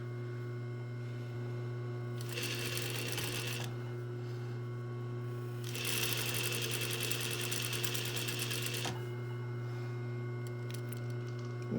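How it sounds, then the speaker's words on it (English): A loud domestic sewing machine stitching a shirt collar seam, two rapid buzzing runs of stitching over a constant electric motor hum, close by with no talking. "my sewing machine is really loud"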